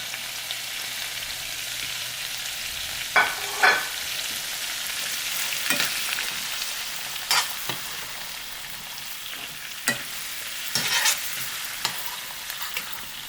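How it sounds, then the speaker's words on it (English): Fish frying in hot oil in a pan, an even close sizzle with a few sharper pops and spits scattered through, no voices. "drop the fish back in for a few more minutes"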